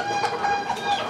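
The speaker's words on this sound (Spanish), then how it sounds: "Esta es otra gallinita." A hen of a small bantam-type breed clucks several times in quick, close succession, short nasal calls rising and falling over a quiet background.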